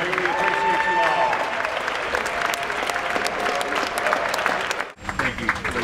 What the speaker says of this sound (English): with a big round of applause for their sacrifice